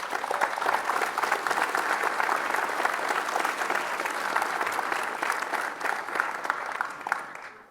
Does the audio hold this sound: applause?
yes